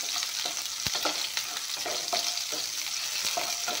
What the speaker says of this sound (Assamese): এতিয়া পিঁয়াজখিনি ধুনীয়াকৈ ভাজি ল'ম